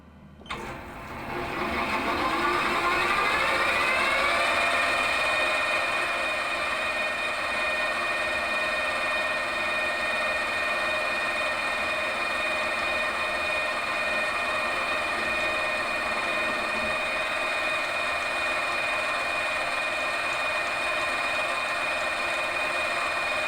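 A lathe spins up and then runs steadily, drilling through a brass valve guide with a 3.7mm bit. The machine gives a sustained, even whine with a tonal hum and no talking.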